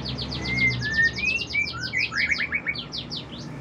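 A magpie robin (murai) sings close by in a rapid run of bright chirps and whistled notes, a busy trilling phrase that stutters into separate calls near the end.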